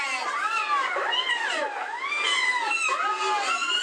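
Cat sounds played loudly as a prank alarm inside a house, a continuous run of overlapping meows and caterwauls with rising and falling wails, steady and close throughout.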